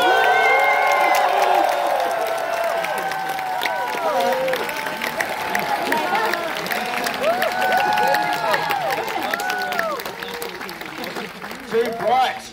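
Large premiere crowd cheering, whooping and applauding for director Taika Waititi at the UK premiere of Thor: Love & Thunder, a loud sustained roar of claps and shouts under an amplified host's voice, swelling again near the end.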